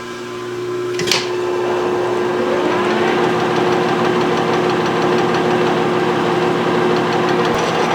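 A machine is jogged to spin a large bench vise spindle under repair, starting with a clunk and settling into a loud, steady mechanical hum with a rhythmic knocking vibration that runs continuously.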